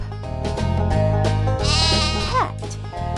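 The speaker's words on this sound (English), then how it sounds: "Sheep." A cartoonish sheep bleat in the Lingo Kids farm-animal stacking game, one loud wavering bleat over bright background game music.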